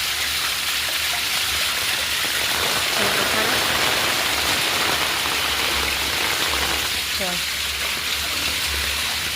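Heavy monsoon rain pouring off a terrace in a steady, loud hiss of water, like a waterfall, with a voice faintly under the roar.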